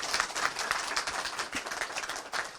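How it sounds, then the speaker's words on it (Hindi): Audience clapping at a political gathering in India, a dense, steady patter of many hands with no speech over it. "एक बार सब लोग ताली बजा दीजिए"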